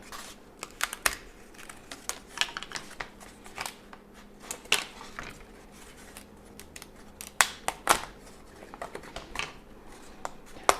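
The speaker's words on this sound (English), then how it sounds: "I love these laser cut pieces because it just makes it so easy to punch these out." Sharp, irregular snaps and clicks as laser-cut pieces for a flat-packed mini crawler course frame are punched out of a sheet one after another, close up with no speech.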